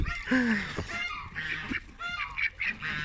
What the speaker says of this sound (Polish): To jest kaczka biegusa